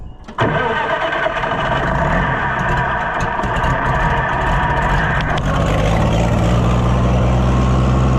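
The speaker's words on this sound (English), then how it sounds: "Weird that it won't start without choke. I know it's freezing cold today" An old tractor engine fires up with the choke on in freezing cold after a brief cranking moment, then settles into a loud, steady, rumbling idle that holds to the end.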